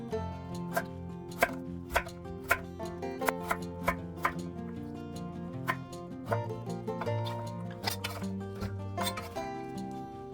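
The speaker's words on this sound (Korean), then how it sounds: "무는 400g 준비했는데요. 2-3cm 크기로 나박하게 썰어주세요" A knife chops 400 g of radish into small 2–3 cm flat pieces on a board, giving a series of sharp, fairly regular taps over continuous background music.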